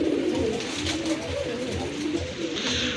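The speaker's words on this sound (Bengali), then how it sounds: "আরেক জোড়া লাহোরি কবুতর" Lahori pigeons in a breeder's sale stock coo continuously, soft low throaty calls rolling and overlapping close by, with several birds contributing over a light background hiss.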